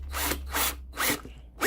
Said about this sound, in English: let's see if we can drill this hole accurately.